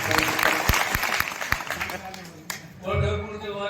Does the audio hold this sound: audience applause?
yes